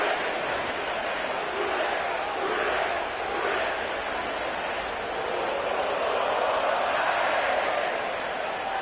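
A sellout NFL crowd at Paycor Stadium in Cincinnati roars steadily throughout, a dense, continuous wash of cheering and babble from a packed stadium with no single voice standing out.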